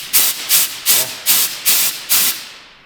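Compressed air hissing out of a compressor air line in a garage, six sharp, evenly spaced bursts about half a second apart, each a loud close hiss, the last one trailing off.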